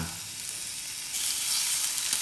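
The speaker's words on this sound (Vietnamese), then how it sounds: "bỏ thịt vô nha mọi người chiên vào thịt" Meat frying in a hot pan for bánh xèo gives a continuous crackling sizzle that grows louder partway through, close and with no voices.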